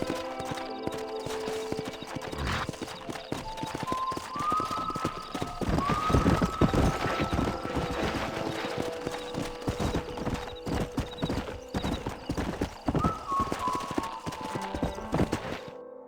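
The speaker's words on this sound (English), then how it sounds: "We got some fine horses." Horse hooves clip-clop at a steady, rapid pace in Red Dead Redemption, with occasional whinnies rising above the hoofbeats. The sound is loud and continuous throughout.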